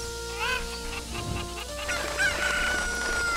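Chickens in Kakariko Village from the video game Ocarina of Time, a rooster-like crow and clucks near the start and then later over a windy, music-backed game soundscape.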